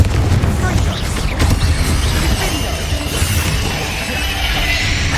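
Confringo explosive spell blasts in the Hogwarts Legacy video game, heard as loud, dense booming bursts that follow one another over a continuous rumbling wash of combat effects.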